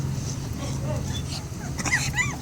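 Hungry puppies whimper and yip in short high squeals, the cries clustering toward the end over a steady low background hum.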